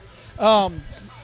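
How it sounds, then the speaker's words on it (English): A single short sneeze, close and loud, bursting out for about half a second in a live music setting. "I'm about to sneeze"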